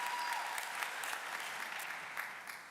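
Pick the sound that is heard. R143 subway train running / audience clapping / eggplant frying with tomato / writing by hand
audience clapping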